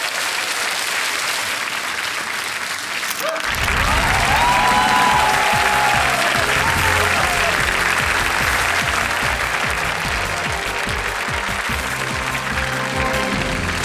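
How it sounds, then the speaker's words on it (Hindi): A studio audience on the TV quiz show Kaun Banega Crorepati breaks into loud, sustained applause after a quieter opening, with dense clapping continuing unbroken to the end. "तालियां बजती रहें देवी सब में।"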